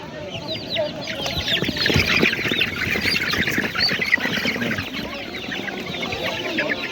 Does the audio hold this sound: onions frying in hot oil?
no